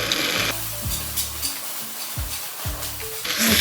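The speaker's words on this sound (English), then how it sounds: "Quickly sear the beef in a hot pan." Beef sears in a hot pan, a dense, loud hiss that runs throughout the clip while low tonal humming sweeps come and go underneath, heard up close with no talking.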